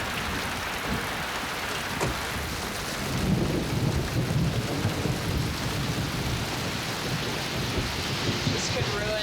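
Heavy rain pours steadily in a mountain gorilla forest while thunder rumbles low through it, swelling after the first few seconds into a dense, continuous roar close around the listener.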